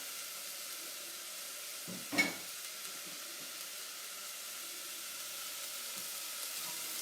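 Garlic frying in a pan for enchiladas gives a faint, steady sizzle and hiss, broken by a brief clatter a couple of seconds in, with no talking.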